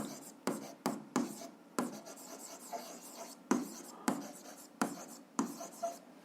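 Pen strokes scratch across paper as equations are written by hand, a series of short, quiet, rhythmic scrapes that repeat steadily.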